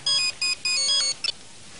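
A telephone rings with a bright electronic ringtone: three quick bursts of warbling beeps, then two short faint blips, loud and close with no talk over it.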